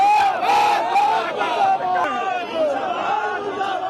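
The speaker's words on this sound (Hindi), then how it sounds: "नरेंद्र मोदी मुर्दाबाद का नारा लगाते हुए ये हुजूम कांग्रेसी कार्यकर्ताओं का है" A large crowd of Congress party workers shouts protest slogans against Modi in a loud, rhythmic chant, with rising and falling voices and a leader's cries over the mass, continuous throughout.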